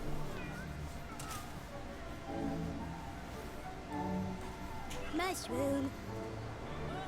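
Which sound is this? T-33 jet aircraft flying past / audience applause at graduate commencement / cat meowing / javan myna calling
cat meowing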